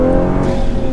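A Toyota GR Supra accelerates hard, its engine a loud, dense, steady roar heard close up from inside the car for a brief second.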